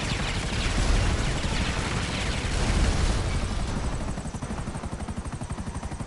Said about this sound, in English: Paige, these drones are malfunctioning.